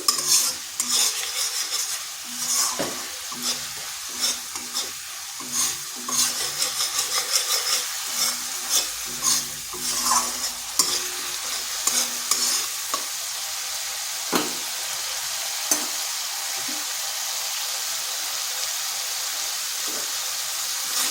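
Spice paste being stirred and fried in a pan with a splash of water, close scraping strokes and clinks of a spatula over a bubbling sizzle that settles into a steady hiss toward the end, no talking.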